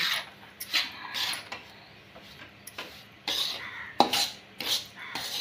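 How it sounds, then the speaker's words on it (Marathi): Semolina being stirred and roasted in a kadhai for laddoos, with irregular scraping and clinking of a spoon against the metal pan in short bursts, fairly quiet and close, with no talk. "आणि सतत एकसारखंच हलवत राहायचं आहे, कारण खाली लागत पण नाही मग कढईमध्ये।"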